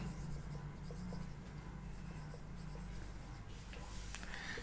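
Steady chalk or marker scratching on a board while someone writes out a mathematics lecture, with continuous strokes under a constant low background hum. Close and soft, with no speech heard.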